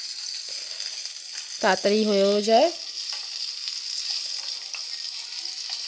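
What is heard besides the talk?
potatoes frying in hot oil in a wok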